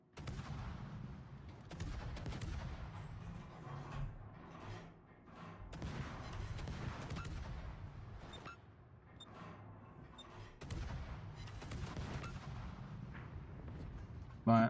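Heavy gunfire and booming shots pound an anti-aircraft gun in a D-Day World War II video game, a dense, continuous barrage of loud blasts with brief lulls and faint voice underneath.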